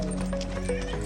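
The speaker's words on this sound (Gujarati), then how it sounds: "ઘોડીને હાલવાની હતી." A mare gives a brief, close whinny over the quick clip-clop of her hooves in one short burst.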